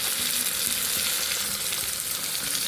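Tomatoes with salt, chili powder, turmeric and coriander frying in a pan for homemade pasta, a dense, loud, continuous sizzle with faint stirring, no voices.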